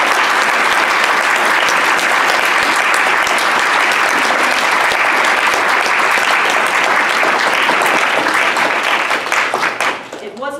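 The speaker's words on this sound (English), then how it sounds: "I think we need to give Professor Ahrens a great round of applause" Sustained, dense applause from a lecture audience fills the room for about ten seconds, loud and even, then tapers off at the end.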